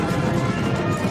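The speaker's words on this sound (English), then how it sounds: "these horses look so pretty" Horses galloping in a battle scene from The Rings of Power, a dense continuous drumming of hooves with a low rumbling thunder, loud and steady throughout with faint voices mixed in.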